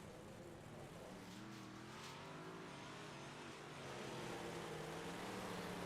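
Big Block Modified race cars at Lucas Oil Raceway running warm-up laps, a steady, continuous engine drone that builds slightly louder toward the end, heard from a distance with no talking.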